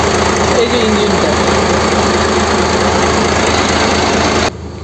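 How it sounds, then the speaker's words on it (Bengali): A launch's boat engine runs loud and steady inside its engine room, a continuous close-up mechanical drone with dense vibration that cuts out abruptly near the end. "এইটা হচ্ছে ইঞ্জিন রুম। পেছনে একটা ছোট্ট কিচেন মতন আছে যেখানে রান্না করা যায়। এই যে ইঞ্জিনটা।"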